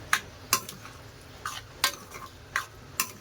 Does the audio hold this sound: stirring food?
yes